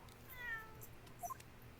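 A short, faint cat meow from The Great Ace Attorney, a couple of quick soft mews over a low background hum, with no voices.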